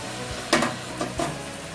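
Spring onion frying in oil in a pot, a soft steady sizzle with a few louder stirring bursts, close and alone.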